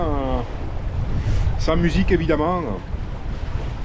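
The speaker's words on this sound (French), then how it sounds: "c'est le son du vent avec l'eau qui frotte sur la coque, c'est magique quoi." A constant rush of wind and water rubbing on a sailboat hull swishes along beneath someone speaking, a steady hissing wash with no breaks.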